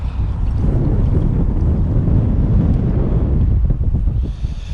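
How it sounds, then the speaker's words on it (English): A strong, cold wind blows across a bay and buffets the microphone in a loud, continuous, low roar that barely lets up. "that is a very strong cold wind, that"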